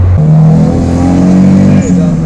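A turbocharged Acura Integra accelerating hard in low gear, engine note climbing in steady rising tones with a brief dip at a shift, loud and close from inside the car.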